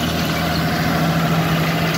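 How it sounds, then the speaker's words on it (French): A tractor passing over a field while grass is being sown gives a loud, steady, low engine drone that runs unbroken and close throughout, with no talk. "voilà le tracteur qui va passer"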